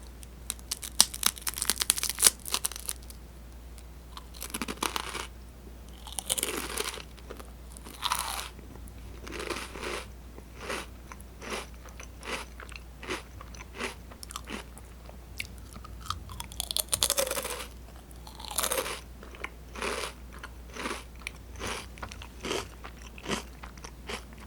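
Close, crisp crunching and chewing of gaufre sand wafer cookies during a tea time, with bites and crackly chews coming in uneven bursts throughout.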